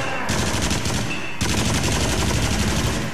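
Rapid gunfire in the VR shooter game Until Dawn: Rush of Blood, with dense automatic bursts from two pistols, loud and continuous, briefly cut off by a short gap before resuming.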